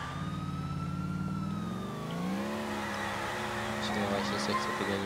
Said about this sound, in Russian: скорая едет.